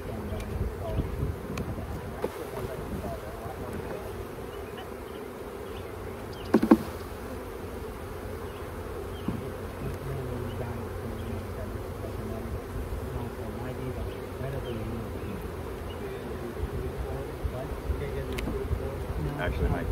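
Honey bees humming around open hives while the colonies are split, a constant low buzz with occasional clicks and a sharp knock partway through; faint voices come and go.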